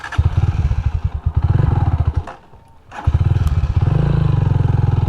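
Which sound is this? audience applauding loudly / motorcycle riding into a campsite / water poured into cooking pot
motorcycle riding into a campsite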